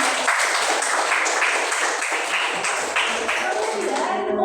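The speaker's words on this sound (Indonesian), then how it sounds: "Tepuk tangan untuk kelompok mendengarkan." A classroom of students breaks into applause for a presenting group, a dense burst of clapping at close range that fades out at the end.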